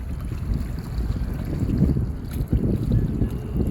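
Strong gusty wind buffets the microphone outdoors while a Potensic Atom drone is flown, a continuous low rumbling roar with uneven surges and no clear voices.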